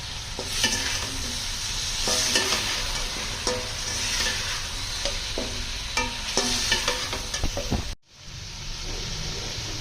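Beef frying with spices for pulao, a steady loud sizzle with repeated scraping stir strokes, cut by a brief break near the end before the frying resumes.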